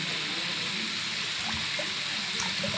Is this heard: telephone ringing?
no